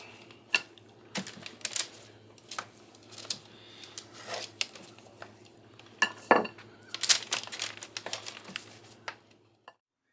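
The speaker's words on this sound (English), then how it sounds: "I'm just going to trim the excess off the edges, you know, make them look presentable." Excess is trimmed from the edges of peanut-butter-coated freeze-dried celery pieces: a dense run of sharp clicks, taps and crisp snips, close and fairly quiet, irregular across the whole stretch and trailing off at the end.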